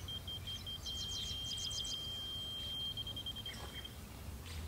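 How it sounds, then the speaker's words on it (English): Construction laser level receiver beeping at grade beside a building foundation, a steady high-pitched tone with quick chirping pulses, faint over a low outdoor rumble. "my laser's beeping off of the foundation."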